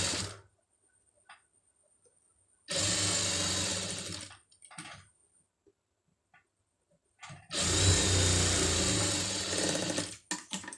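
An electric sewing machine stitching a sleeve made from saree cloth runs in two loud, steady bursts of a few seconds each, separated by quiet pauses with small clicks and handling noises.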